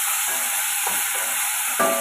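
Tomato chutney seasoned with salt frying in a pan, a constant loud sizzle with a few quick stirring scrapes over it, heard close up in a short burst with no talking.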